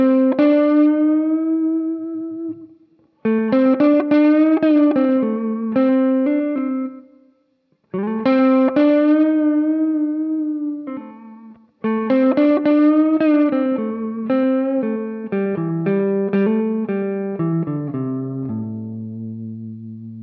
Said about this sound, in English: then we go into this lead part, which doubles the melody.